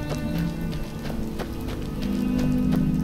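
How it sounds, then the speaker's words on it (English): Rain falls in the Reach region of the video game Skyrim, a steady hissing patter that holds level for the whole stretch, with a few soft clopping taps mixed in and no talk. "Another rainy day in the Reach."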